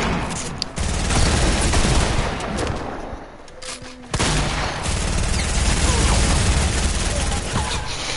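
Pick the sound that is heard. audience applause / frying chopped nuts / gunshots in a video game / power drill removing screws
gunshots in a video game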